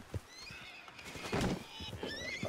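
A horse neighs in a RedM roleplay game, its whinny rising loud and close over soft hoof clops, with a second fainter neigh following near the end.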